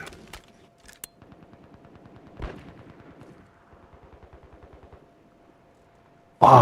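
Gunfire in the DMZ video game: a long run of rapid, evenly spaced shots at moderate distance, with a louder crack partway through and a sudden loud burst at the very end, no talking.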